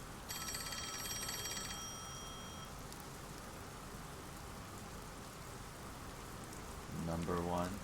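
A phone ringing in the video game Rain Code, a bright electronic trill repeating for about two seconds near the start over steady rain ambience, with a brief sound bursting in at the end.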